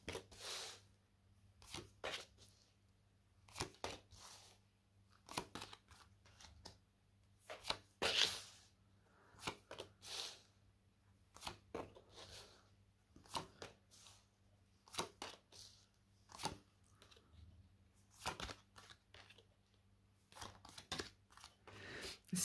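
Tarot cards laid out one by one on a table, giving soft brushing slaps and flicks in irregular bursts, close but faint, with quiet pauses between placements.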